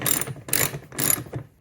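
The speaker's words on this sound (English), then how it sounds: "I just have to tighten them down." A wrench ratchets while tightening screws on a dump cart during assembly, giving three quick, close bursts of clicking pawl sound in a steady rhythm.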